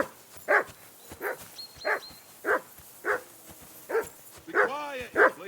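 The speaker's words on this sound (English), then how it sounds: "Be quiet, you flea bitten hound. Do something with that mutt, Henry." Dog barking in the video game Kingdom Come Deliverance 2: about nine sharp, evenly spaced barks, loud and close, ending in a couple of whining, yelping barks.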